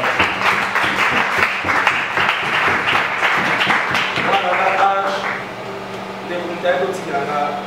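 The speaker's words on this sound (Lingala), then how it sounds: "Est-ce qu'on va acclamer la parole?" A church congregation breaks into dense, sustained applause for several seconds, then the clapping thins out as steady tones from a keyboard or organ come through underneath.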